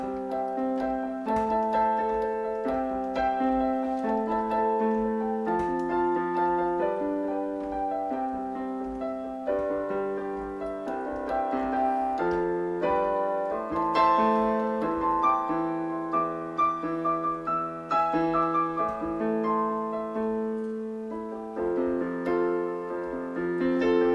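Piano played in a polished style, a flowing melody over steady full chords in the left hand, continuous and moderately loud with no talking throughout.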